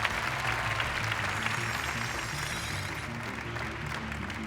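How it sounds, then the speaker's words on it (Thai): Studio audience at a Thai televised code-breaking game show breaks into steady, dense applause that sustains evenly throughout, with a faint hum underneath and no voices. "พวกเราปรบมือเป็นกำลังใจให้กับทั้งคู่สักครั้งค่ะ"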